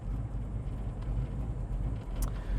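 A 1979 Pontiac Trans Am engine idling just after a cold start, a steady low rumble that holds evenly throughout with no voices.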